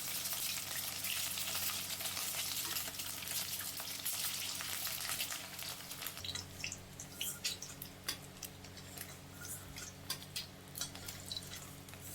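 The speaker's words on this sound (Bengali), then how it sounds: "ডিমগুলো আমি ভেজে নেবো আগে" Eggs fry in refined oil in a wok with a steady, bright sizzle that is loud at first, then settles into softer crackling with scattered pops and spits.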